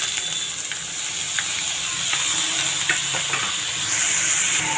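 Cabbage frying with urad dal in a pan, a steady close sizzle with occasional stirring scrapes throughout, no talking.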